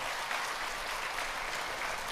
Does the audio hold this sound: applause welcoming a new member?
yes